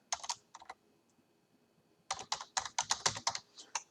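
Quick bursts of keystrokes on a computer keyboard while an app publisher name is entered, a short flurry, a pause, then a longer run of crisp close clicks.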